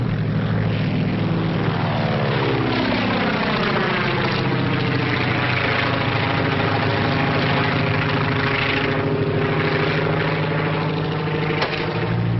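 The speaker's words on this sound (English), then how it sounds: "Just spotted kid's plane with smoke attachment." A small single-engine propeller plane, fitted with a smoke attachment, drones overhead with a steady buzzing engine tone that slowly shifts in pitch as it passes, loud and continuous with no talk.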